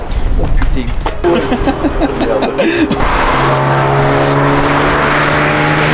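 A Nissan 350Z accelerates hard with the rear wheels driving, its engine revving up loud and close before settling into a steady high drone, with people talking over the first half.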